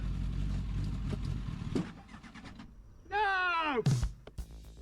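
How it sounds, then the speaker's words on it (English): A race car engine in a watched video rumbles low, then rises in a loud rev with rising, falling pitch and a sharp burst, while a person talks over it. "Why do they have a race car now?"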